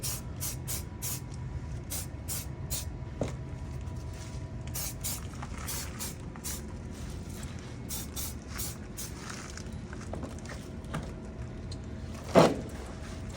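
Short hissing bursts from a can of mold release spray repeat in quick clusters over a low steady hum, with one louder clunk near the end.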